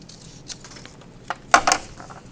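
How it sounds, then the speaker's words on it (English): Scissors snip along a printed line on a paper label, a few short crisp cuts spaced apart, the last two close together and loudest, heard alone at close range. "So I'm going to cut along this line."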